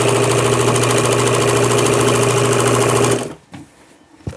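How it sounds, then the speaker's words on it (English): A sewing machine stitches a zigzag seam on an upcycled summer dress, giving a loud, steady mechanical whirring hum for about three seconds before it stops abruptly and leaves a quiet, faintly rustling pause. "I'm going to use zigzag because I just like the way it looks."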